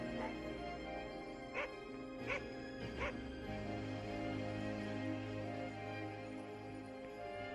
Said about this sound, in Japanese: 風連のクマが一頭の犬を連れて走ってきた。